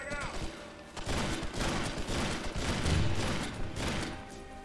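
A grenade detonates in the military shooter H-Hour amid a dense stretch of gunfire and booming impacts, loud and close, with a player's voice in the mix.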